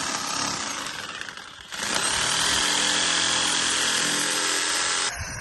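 A power tool bites into a fresh green bamboo pole meant for garden posts, a loud grinding whine that eases briefly, then roars steadily for several seconds before cutting off abruptly, close by, with no talking.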